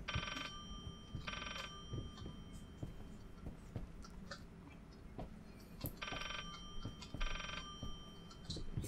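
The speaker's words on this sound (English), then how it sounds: "That is a phone, right?" Old telephone ringing in the horror game Layers of Fear, two bursts of bright trilling rings separated by a long pause, over a dark rumbling ambient background with scattered creaks and knocks.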